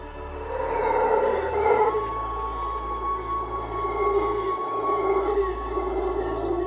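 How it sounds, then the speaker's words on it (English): A howler monkey gives its loud call, a deep, drawn-out roaring howl that swells and sustains over several seconds. It sounds fairly close and stands alone without talk. "The aptly named howler monkey is thought to produce the loudest call of any land animal."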